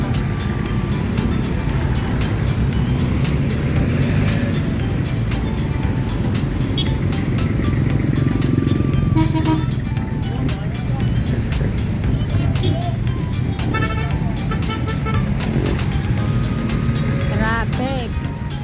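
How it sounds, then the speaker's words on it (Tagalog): Dense, steady street traffic in Quezon City, with cars and motorcycles rumbling close by throughout and people talking over the continuous engine noise. "Oh, traffic na naman guys."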